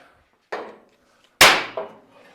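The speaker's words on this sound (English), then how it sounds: "Get the little hammer out, give it some persuasion." Two or three sharp metallic-wooden knocks from a small hammer on a 1956 International COE truck's rear suspension, close and distinct, a louder strike followed quickly by a lighter one, separated by quiet gaps.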